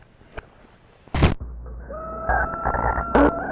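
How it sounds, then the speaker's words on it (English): A rooster crows in a video game: a short loud burst stands out against a quiet background, followed by sustained tonal game sounds. "Cock-a-doodle-doo."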